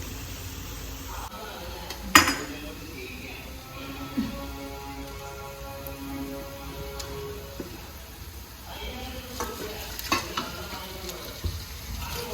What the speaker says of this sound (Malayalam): ഉള്ളിയും മുളകും നല്ല വയറ്റുക